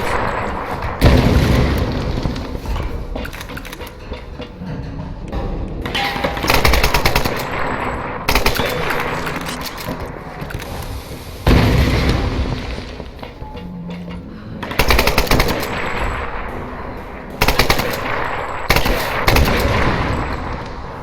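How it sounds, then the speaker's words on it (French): Machine gun fire in the video game Tomb Raider, loud sustained automatic bursts with booming impacts, repeated in several volleys across the clip with short gaps between. "On veut jouer à la mitrailleuse? Eh ben, on va jouer à la mitrailleuse."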